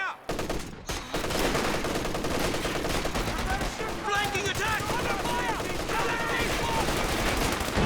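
Rapid machine-gun bursts crackle through a Company of Heroes 2 battle, loud and dense for nearly the whole stretch, with other gunfire layered in and a voice talking over it.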